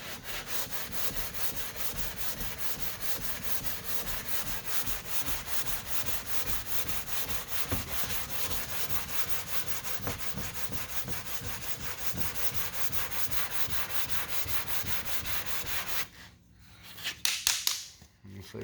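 2K primer on a car body line is hand-sanded in a steady run of close, raspy back-and-forth strokes that continue for about sixteen seconds before stopping, ending with a few short scuffs and knocks.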